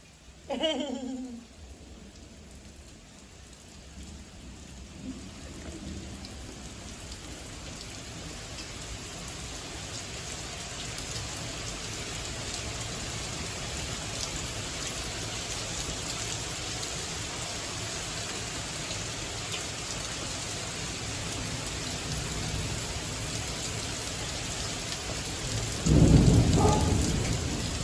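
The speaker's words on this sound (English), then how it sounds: "It's definitely hailing." Hail and heavy rain pelt down during a late-night thunderstorm in Flower Mound, Texas, a steady dense hiss that builds gradually over nearly half a minute, with a loud low rumble of thunder near the end.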